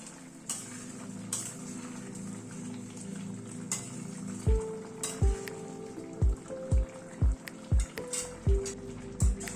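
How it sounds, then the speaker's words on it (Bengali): Paneer simmering in a vegetable gravy in a pot, a soft steady bubbling under a series of sharp metallic clinks from a spoon tapping and stirring against the pan near the end. "পনিরগুলো একটু ঝোলের সাথে ফুটে উঠুক।"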